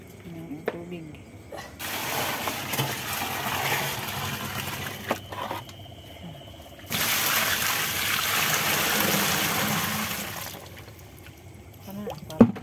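Water flows and trickles steadily outdoors on a farm, a soft continuous rush that swells in two long stretches, with faint voices and occasional clicks nearby.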